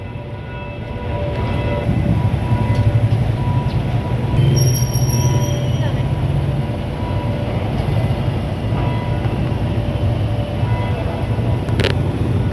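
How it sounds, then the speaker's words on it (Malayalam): A monorail or metro train in Malaysia rumbles past steadily with a deep rolling roar and metallic wheel squeals, loud and close, continuing throughout with no talking. "മോണോ റെയിലാണോ മെട്രോ ആണോ എന്നറിയില്ല"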